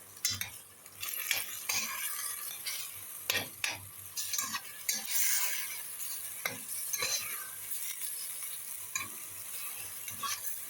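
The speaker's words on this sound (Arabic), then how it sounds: "هنقلب بقى كل التوابل الجميله دي مع اللحمه." Meat and seven-spice seasoning for pot kebab are stirred in a pot with a spoon, giving repeated close scraping strokes against a soft sizzle and no talk.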